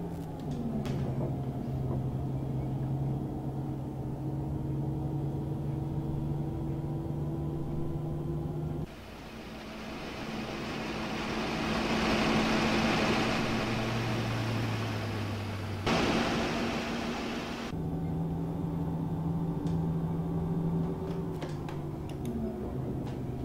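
Busscar Elegance 360 bus engine in a video game on a night drive, a low steady hum that shifts pitch and texture in sections, faint and unbroken.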